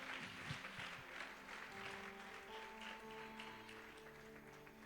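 Church congregation applauding in praise, a steady wash of many hands clapping at moderate distance, blended with sustained organ or keyboard tones underneath.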